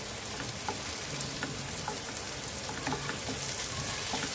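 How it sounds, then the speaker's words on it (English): Bitter gourd slices fry gently in an open pan over low flame for a Kerala pavakka mezhukkupuratti, giving a soft, even crackling sizzle with scattered small pops throughout, fairly quiet and with no voices. "Let us keep it open in low flame and fry this for some time."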